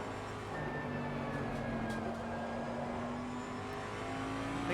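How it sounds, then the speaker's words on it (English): Race car engine in the Assetto Corsa Competizione racing game, a steady loud droning hum with rising pitch as the car accelerates, continuous and close throughout with no talk over it. "how spectacular the sound of this car is?"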